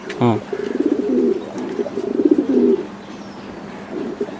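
A foreign long-distance racer pigeon coos in a steady series of low throaty calls close by, preceded by a brief sharp chirp and with faint background sounds.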